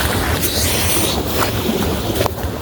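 Irrigation water rushes steadily into a maize field, a loud continuous wash of broadband flow noise with wind buffeting and no talk.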